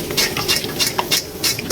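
Double-fried pork slices for guo bao rou crackle and crunch when disturbed right after coming out of smoking-hot oil, a close series of crisp, irregular ticks and rustles with no voices.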